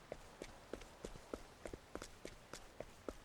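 Quiet, steady running footsteps from the video game Octopath Traveler II, about three even steps per second in a regular rhythm, heard alone.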